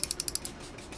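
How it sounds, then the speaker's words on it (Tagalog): Hair styling product sprayed from a pump bottle in a quick run of about six short, sharp hissing bursts, then a quiet tail. "So mag-spray lang tayo."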